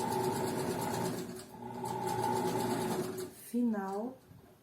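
A sewing machine backstitches the final stretch of a dress seam, running in steady buzzing bursts with brief pauses, close and fairly loud, while a voice speaks briefly near the end.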